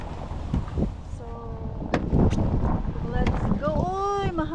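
Gusty wind buffets outdoors in Finland, rumbling steadily against the microphone while someone talks over it.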